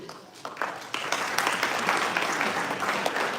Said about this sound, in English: Wie würdet ihr dann applaudieren?